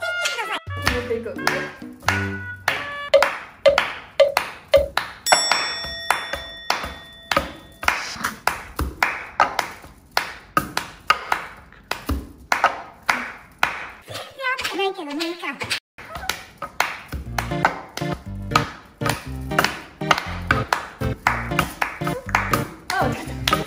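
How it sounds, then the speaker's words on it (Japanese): A leader's hand clapping keeps a rhythm for a group of singers, with sharp, steady claps running throughout under bright chiming tones and voices talking. "リーダーの手拍子を聞いて"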